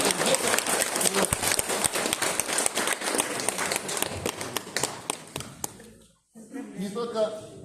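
Audience applause for a children's choir at a school Easter event: dense, loud clapping for about six seconds that thins out and breaks off, then talk with a murmuring crowd behind it.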